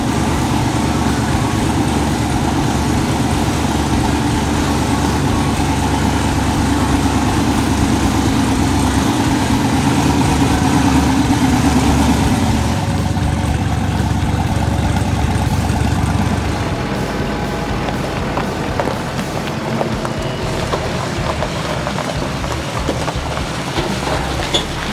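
A rock bouncer's engine runs on a dyno with a loud, constant drone, dropping to a lower, rougher rumble partway through.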